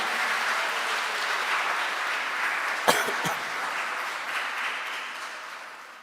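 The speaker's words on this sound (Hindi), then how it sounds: "जोरदार तालियों के साथ, शाबाश" Sustained applause from a large crowd at a church Christmas celebration, a continuous wash of clapping with a couple of sharp bursts midway, fading slightly at the end.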